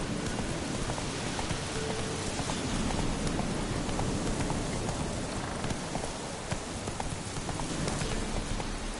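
Roach the horse's hooves clip-clopping through rain in The Witcher 3, a dense run of hoofbeats blended with a constant wash of rainfall, steady and fairly loud throughout with no talking.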